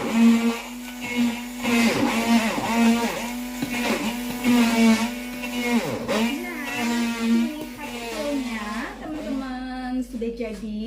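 A kitchen blender grinds garlic, palm sugar, candlenut and peanuts for Indonesian satay sauce, its motor droning loudly with a strong steady whine that wavers and surges as the thick paste churns, then slows and stops near the end.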